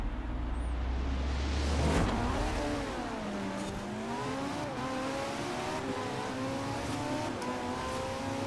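A Lamborghini-engined Ferrari launches hard and accelerates, its engine note climbing steadily in pitch through quick, short-ratio gear changes, loud and close throughout with no talking.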